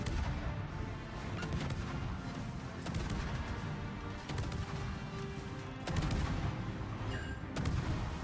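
Naval gunfire from World of Warships battle, with repeated heavy cannon booms and rumbling blasts layered over a continuous dense battle din, loud and close throughout.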